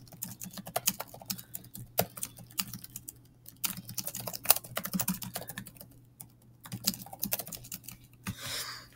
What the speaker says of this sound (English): I'm just typing so well.